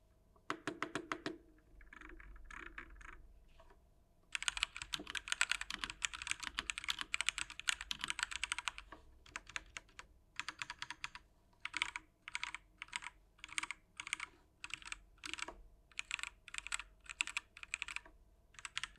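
Close-miked typing on a Redragon UCAL PRO K673 wireless 75% mechanical keyboard with quiet, smooth switches: soft clacking keystrokes in quick bursts, then a run of evenly spaced single presses, with no talking.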